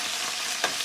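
Curry leaves frying in hot oil for tomato rasam, a steady soft sizzle throughout with a brief louder crackling burst near the end, close and alone without talk.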